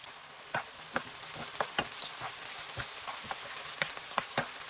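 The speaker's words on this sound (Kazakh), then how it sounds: "Қызып тұрған майға жуаны қуырып аламыз." Sliced onion frying in hot oil for a mushroom gravy, giving a steady soft sizzle with scattered sharp crackles and pops, close and fairly quiet, no talking.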